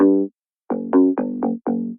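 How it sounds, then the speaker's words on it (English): Clean Pick Bass 2, a plucked guitar-like bass preset from Subboom Bass, plays one note, pauses, then five quick separate plucks, each with a bright attack and a short decay, dry and up front. "So the actual preset I have used is Clean Pick Bass 2"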